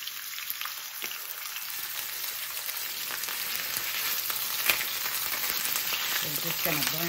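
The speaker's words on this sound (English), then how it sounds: "So I'm gonna use these chuck eye steaks, and we're just gonna sear them off" Chuck eye steaks sear in a hot pan on a stove, a continuous bright crackling sizzle that builds slightly louder over several seconds, with a few sharper pops and light scraping.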